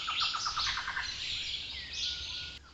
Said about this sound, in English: the elegant trogon's barking call, as well as the more subtle ascending notes from the black-headed trogon